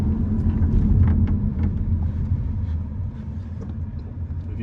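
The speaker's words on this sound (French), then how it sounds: "je vais freiner d'une manière assez appuyée" BMW X2 sDrive 18i with a 140 hp petrol engine pulling away, a steady low engine and road rumble that swells early and then eases off as the car slows, with no voices.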